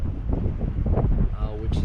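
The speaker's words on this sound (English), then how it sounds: "But it's pretty darn windy today" Strong wind gusts buffet the microphone beside the South Platte River in Cheeseman Canyon on a cold day, a steady low rumble under someone talking throughout.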